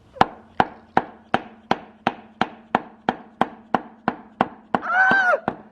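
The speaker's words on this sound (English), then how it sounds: "So we just took this little orange hammer," A small orange hammer taps a lubed pilot bearing into a flywheel during a clutch install for a Toyota 1UZ/3UZ V8 swap into a Mk3 Supra. About fourteen sharp, close metallic taps come at a steady rhythm, ending with a brief squeal.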